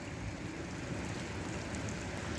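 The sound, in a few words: rain falling at night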